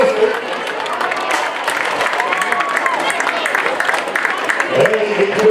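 A crowd at a high school football game breaks into sustained applause and cheering, a dense steady wash of clapping with an announcer's amplified voice over it.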